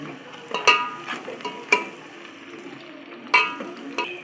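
Onions, green chillies and mint are sautéed in a pan, with a soft continuous sizzle broken by a few sharp spatula clinks and scrapes against the metal at irregular intervals.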